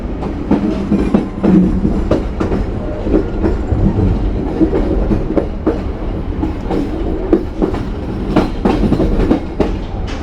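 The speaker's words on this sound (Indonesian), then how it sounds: "Saat ini kereta api Mutiara Selatan melintas langsung stasiun Wonokromo" The Mutiara Selatan passenger train rolls steadily through Wonokromo station without stopping, its wheels clattering in a rhythmic clickety-clack over a low rumble, loud and close throughout.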